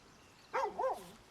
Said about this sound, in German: Kleiner Hundi.